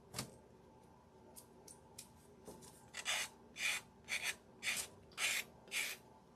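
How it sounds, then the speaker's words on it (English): Paper is peeled and torn off an angel ornament kit in a run of short, crisp ripping strokes, a few scattered at first and then a steady series of rasping tears, close and fairly clear with no talking. "So we are getting some of the paper off."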